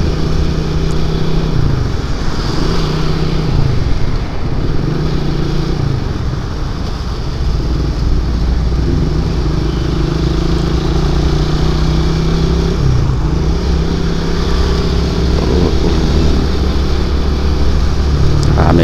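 A Suzuki Satria F150 motorcycle engine drones steadily while riding, with shifting pitch as the rider changes gears, loud and continuous with wind rush and no talk.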